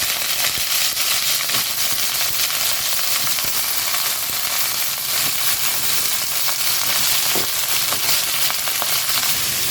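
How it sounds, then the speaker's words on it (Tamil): Pirandai (adamant creeper) pieces sauté with tamarind in a hot pan, giving a loud, dense, continuous sizzle with faint stirring scrapes throughout. "பிரண்டை புளி கூடையே போட்டு வதக்கணும்"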